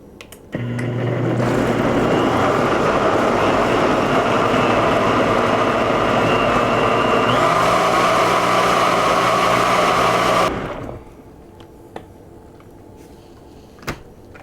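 A blender purees hot pumpkin soup for dairy-free pumpkin soup, starting low and stepping up to a louder, steady whir for about ten seconds. Then it stops, leaving quiet with a few small clicks.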